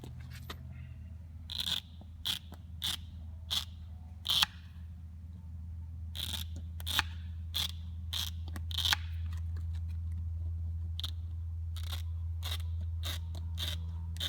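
Rubber bottom seal of a bifold hangar door being trimmed with shears: roughly twenty crisp, separate snips in an irregular rhythm, close and clear over a steady low hum.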